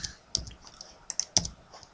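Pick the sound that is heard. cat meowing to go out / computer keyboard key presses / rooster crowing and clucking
computer keyboard key presses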